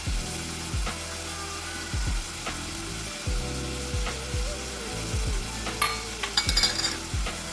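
Garlic sautéing in oil for lasooni palak paneer, a continuous sizzle under repeated rhythmic scraping stirs of a spatula, with a few sharper clinks near the end.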